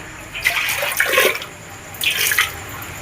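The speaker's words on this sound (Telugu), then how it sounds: "ఇలా నీళ్ళు పోసి కడుక్కుంటే" Water is poured over a wet grinder to rinse it, two splashing gushes about a second and a half apart, close by and hissy, with a faint quieter lull between them.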